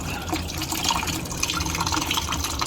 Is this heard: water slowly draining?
yes